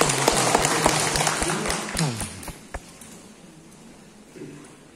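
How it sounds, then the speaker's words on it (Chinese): Audience applause at a New Year gathering in a Buddhist hall: a burst of clapping near the start that thins out and fades, with voices talking over and after it. "那是掌声"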